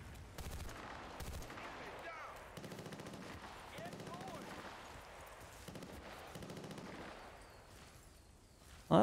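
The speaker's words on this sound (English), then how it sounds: "Well, there's somebody shooting at something," Distant gunfire in the Battlefield: Bad Company 2 mission "Upriver," coming as repeated bursts of automatic fire under a steady battlefield rumble, fairly faint throughout, with a sharper loud burst right at the end.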